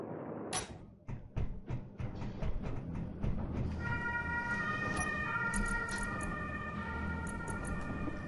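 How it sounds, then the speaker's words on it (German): An ambulance siren in the space video game Space Engineers, wailing steadily after a burst of short sharp knocks, with vehicle rumble underneath and a second tone layering in partway through, fairly close and loud. "Das war gerade ein Krankenwagen."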